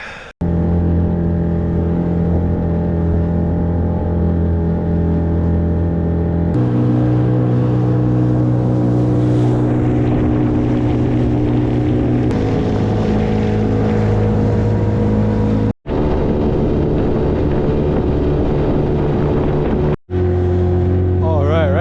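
An outboard motor on a small boat out in remote wilderness, running loud and steady close by, with shifts in engine pitch and two brief cut-outs near the end before it picks up again.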